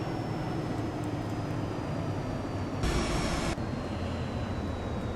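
Steady broadband aircraft engine drone under auto throttle in the X-Plane 11 flight simulator, continuous throughout with a brief louder surge of rushing noise near the end.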